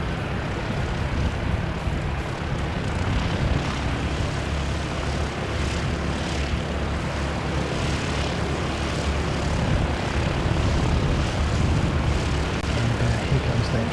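A flying doctor service propeller aircraft from Greymouth drones steadily and fairly loud, its engine and propeller noise sustained throughout with slight swells toward the end.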